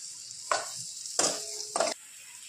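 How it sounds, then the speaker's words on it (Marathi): Masala being sautéed in oil for a potato and pea curry, with a steady sizzle and three short bursts of stirring and scraping close by, no voices. "मसाला आपल्याला त्याच्यात टाकायचा आता, व्यवस्थित परतून घ्यायचं"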